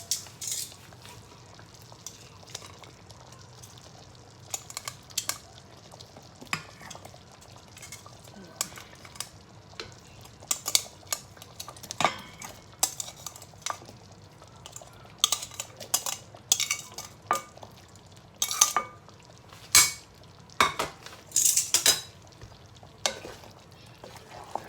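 Chicken pieces stirred into butter chicken gravy in a pan, with a steady low sizzle under frequent scraping and clinking of a utensil against the pan, loudest in bursts toward the end.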